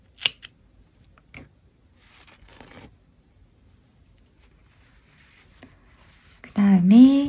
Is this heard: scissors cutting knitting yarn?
yes